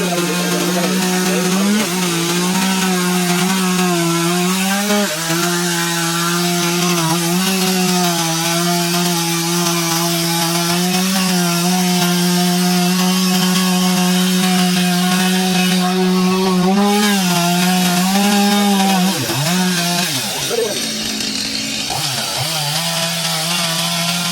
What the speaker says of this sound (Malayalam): മരം മുറിക്കാൻ അറിയാത്ത ആളാണ് ആദ്യമായിട്ട് മരം മുറിക്കാണ്